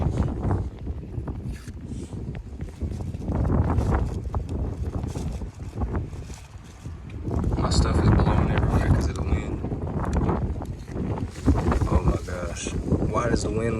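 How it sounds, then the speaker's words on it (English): Wind blowing outdoors in gusty, rumbling bursts against the microphone, swelling and easing over about 14 seconds, with no voice audible. "does the wind want to blow today?"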